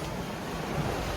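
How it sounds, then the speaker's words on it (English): A sailboat crossing the Strait of Gibraltar with a side wind, heard as a continuous close rush of wind and waves washing against the hull. "We have the wind from the side now, so we're going a bit crooked."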